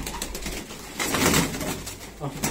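A five-year-old champion racing pigeon coos close by in a loft, low throaty rolling calls repeated over about two seconds, with faint rustling around it.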